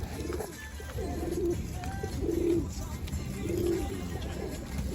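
A pigeon coos on a rooftop, three soft, low, rolling coos spaced about a second apart, close by over a steady hum of outdoor noise.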